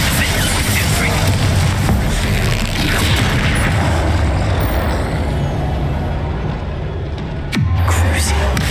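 Loud, dense magical blast from the Confringo fire spell in Hogwarts Legacy, a continuous roaring burst of combat noise that drops off near the end and then flares up again with a sharp hit.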